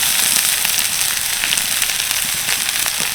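Chopped beans and carrots sizzle in a pan for an oil-free snack, a loud, steady crackling hiss that runs unbroken from start to finish.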